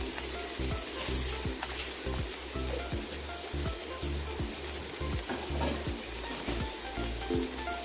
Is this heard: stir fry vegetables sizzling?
yes